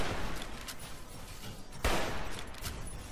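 Gunfire in Fallout New Vegas: a single sharp, loud shot cracks out partway through, set against a steady, rough crackling background of combat noise.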